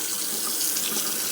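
Water pours from a tap in a steady, close, hissing stream, continuous and fairly loud with no voices.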